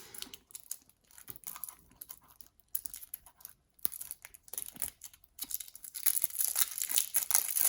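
Wrapping is torn and crinkled off a deck of cards in a series of irregular close rips and crackles, growing louder and denser toward the end.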